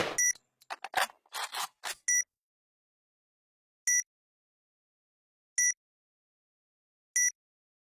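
A planted bomb in the shooter game Point Blank beeps: a cluster of rapid electronic chirps, then single bright beeps spaced about every one and a half seconds, close and clean with nothing else.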